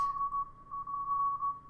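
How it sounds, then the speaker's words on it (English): A steady high-pitched tone beeps in short and long pulses, like Morse code, alone and fairly faint, ending in a brief click. "I'm sick of this Morse code"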